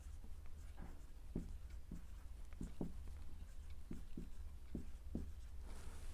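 Pen or chalk strokes writing out a trigonometry equation, faint short taps and scratches in an uneven rhythm over a quiet room hum, with no talking.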